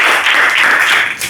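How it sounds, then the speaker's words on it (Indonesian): A classroom group of students claps together in a short, loud, close burst of applause lasting just over a second. "Oke, tepuk tangan dulu."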